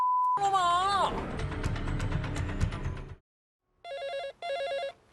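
A telephone bell rings loudly over a burst of noisy activity, stops, then two clear electronic rings follow after a short silence.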